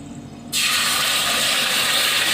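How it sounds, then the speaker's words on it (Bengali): Chicken marinade hits hot oil, setting off a sudden loud burst of sizzling hiss after a quiet moment, which then holds as a steady, close crackling spit. "এবারে আমি যে ম্যারিনেশন করেছিলাম, চিকেনটাকে ম্যারিনেশন করেছিলাম যেটা দিয়ে, সেইটা এবার আমি এই গরম তেলের মধ্যে দিয়ে"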